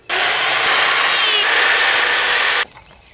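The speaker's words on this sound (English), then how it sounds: "we're going to put some screws right across here" A power drill drives 1 1/4 inch screws into boards for a black soldier fly larva composter, one loud steady whirring run of about two and a half seconds that then cuts off abruptly.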